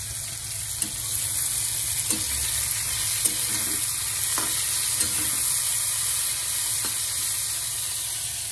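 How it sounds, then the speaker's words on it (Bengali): Bitter gourd frying in oil in a pan, a steady close crackling sizzle throughout, punctuated by a few soft clicks of a stirring utensil. "এই পাশে বসিয়ে দিয়েছি উচ্ছে ভাজা"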